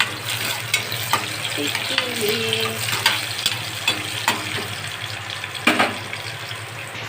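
Garlic frying in a pan over a low gas flame, a steady soft sizzle under sharp clicks and scrapes of stirring, with one brief spoken word.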